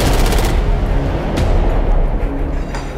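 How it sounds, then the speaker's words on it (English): A loud, dense burst of machine gun fire from an action film scene rattles continuously and fills the whole stretch without pause. "And the guns, the machine guns were like loud."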